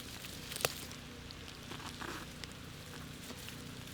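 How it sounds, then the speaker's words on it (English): Soft, steady rain patters in the background, a faint continuous hiss with an occasional sharper drip or tap. "Can you hear the rain?"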